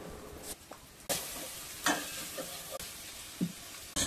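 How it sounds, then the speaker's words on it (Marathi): Tomato and masala being sautéed for chicken curry, heard as bursts of sizzling and hissing with stirring scrapes and short pauses between strokes. "आता आपण टोमॅटो, गरम मसाला आणि घरगुती मसाला 2 चमचे घालून छानसं परतून घेऊया"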